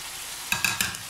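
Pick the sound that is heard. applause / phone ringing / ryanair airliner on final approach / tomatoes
tomatoes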